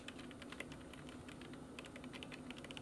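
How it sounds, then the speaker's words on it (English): Aggressive, rapid typing on a computer keyboard, a dense stream of sharp clacking keystrokes at steady loudness with no pauses, like someone hammering away in a haunted manor scene. "that last aggressive typing thing"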